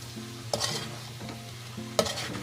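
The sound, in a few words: pork frying and being stirred in a pan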